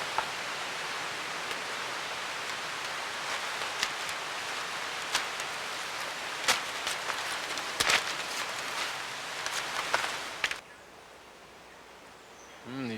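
Rain falls steadily in a Puerto Rico rainforest as a dense, hissing wash with scattered sharp drip clicks, continuous and close before cutting to near quiet at the end.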